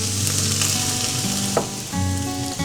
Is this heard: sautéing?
yes